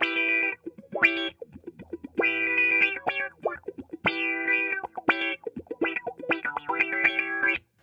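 Electric guitar through a Mojo Hand Little Wonder pedal on its low pass filter setting, played in choppy, distorted chord bursts and short phrases with gaps between, filtered and effect-heavy, close and fairly loud with no talking.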